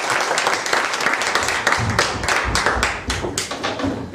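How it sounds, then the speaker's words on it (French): Brisk applause from a small group, steady overlapping hand claps with a few louder slaps, sustained for a few seconds. "Ça mérite des applaudissements"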